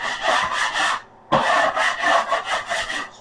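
A drywall knife scrapes joint compound along sheetrock in two long rasping strokes with a short pause between, close and fairly loud with no talking.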